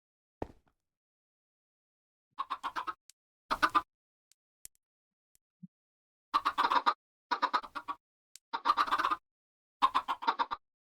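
Minecraft chickens cluck in short, quiet bursts, some single and some in quick runs, with gaps of silence between them and no talking.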